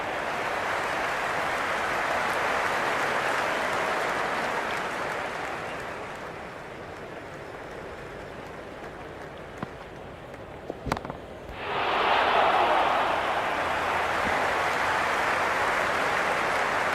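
Crowd in a cricket video game, a broad steady roar of cheering and applause that swells, dips briefly, then rises again loudly, with a few sharp knocks in the lull.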